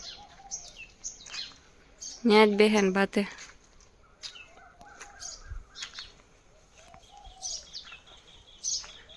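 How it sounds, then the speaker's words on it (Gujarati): Birds chirp outdoors on a farm with scattered, faint tweets throughout and one louder burst of calling, while a person talks quietly nearby. "જો ઉઠે ને પંખીડા શેરી કરવા દેખાય."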